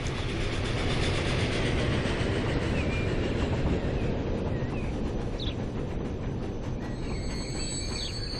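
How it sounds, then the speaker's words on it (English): A train pulls into a station in the game Transport Fever 2, a steady rumbling rail roar with clattering wheels and faint squealing, heard alone without talk. "so here comes the train. You know what I'm saying? And all of its beautiful roar."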